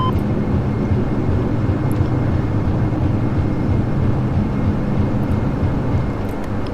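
Flybe Dash 8 turboprop in Flight Simulator X rolling for takeoff, a loud steady engine roar and rumble that holds at an even level throughout.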